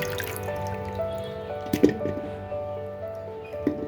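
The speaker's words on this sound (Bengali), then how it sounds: "এগুলো সুন্দর করে ধুয়ে নিচ্ছি দেখুন একদম ক্লিন" Halved potatoes are washed by hand in water, giving soft sloshing, squishing and dripping sounds close by. A few sharper wet splashes rise over a steady background hum.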